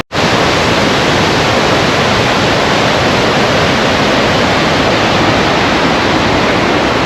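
Aysgarth Falls in full flood, a waterfall roaring as a loud, steady broadband rush that fills the whole clip without letup.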